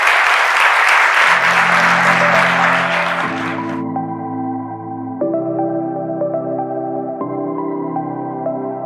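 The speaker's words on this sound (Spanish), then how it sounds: "Un aplauso, por favor" Audience applause after a lecture on human nature and freedom, a loud dense burst of clapping for about four seconds that fades out, followed by steady sustained musical tones.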